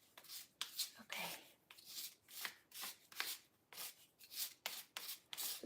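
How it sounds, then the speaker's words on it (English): Grout being scraped off travertine tile, heard as a series of close, rhythmic rasping strokes, roughly two per second, quiet and with no voices. "And then I'm just kind of scraping up the excess a little bit."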